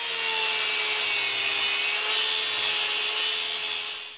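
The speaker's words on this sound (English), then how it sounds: "When I'm grinding that keyway, I actually used a block of wood as a guide for my angle grinder" An angle grinder cuts a keyway into a steel shaft for a homemade belt sander, its blade rubbing against a wooden guide block, producing a steady, loud, continuous abrasive whine that holds evenly throughout with no voices.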